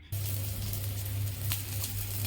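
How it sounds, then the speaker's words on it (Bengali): Chopped onion hits hot oil in a pan for egg kobiraji and bursts into a loud, steady sizzle that holds for a couple of seconds, alone with no voices. "তেল দিয়েছি, দেখুন ভালোই গরম হয়ে গেছে। এর মধ্যে এবার আমি দিয়ে দেবো পেঁয়াজ কুচি।"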